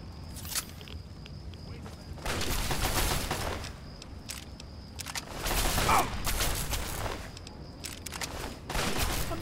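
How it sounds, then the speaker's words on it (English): Hunting rifle fire in Fallout 3 crackles out in several sharp, loud bursts spaced a couple of seconds apart, each trailing briefly, with quieter mechanical handling noises between the shots. "Hunting rifle's not a bad weapon"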